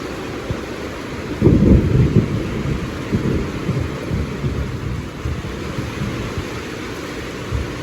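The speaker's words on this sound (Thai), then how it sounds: "ฝนตกอยู่" Heavy rain pours down steadily while a loud rumble of thunder rolls in early on and fades back into the dense hiss of the downpour.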